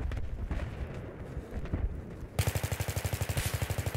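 Rapid gunfire bursts in Battlefield 3 multiplayer, a dense run of sharp repeated shots in the last second and a half after a quieter stretch of muffled battle noise.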